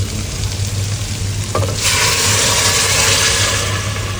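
Chicken biryani ingredients fry in a pan as they are stirred, a loud, steady sizzle that swells and brightens midway when something is added, with continuous scraping under a low hum and no talk.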